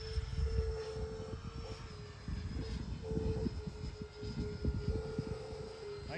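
Freewing B-2 Spirit RC model jet making a flying pass at a flying field, a steady ducted-fan whine with a low rumbling roar that swells and eases as it goes by, with wind buffeting the microphone.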